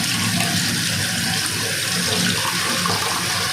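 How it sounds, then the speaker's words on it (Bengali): Tap water running steadily over a water filter kit part being rinsed, a close, continuous splashing rush with no pauses. "তারপর কিটের আরেকটি যে অংশটা ছিল সেটাও আমরা সুন্দরভাবে ধুয়ে নেব"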